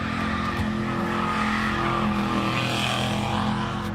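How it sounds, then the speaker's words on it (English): A car accelerates hard behind a news reporter, giving a loud, continuous roar of engine and tire noise that fills the whole short stretch at close range. "The car then accelerates, making a loud noise, scaring the news reporter."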